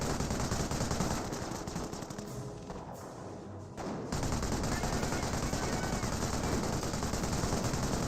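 Sustained bursts of Vickers machine gun fire from an emplacement in a Company of Heroes battle, a dense rattling fusillade that dips briefly and then resumes at full loudness throughout.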